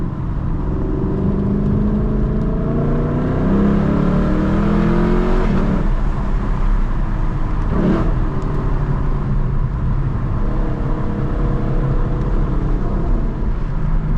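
Lexus LC 500 engine on a canyon road, loud and close, rising in pitch through repeated revs and gear changes, with a sharp burst midway before settling back to a steady cruise.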